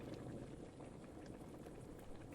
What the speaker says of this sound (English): It's boiling all well.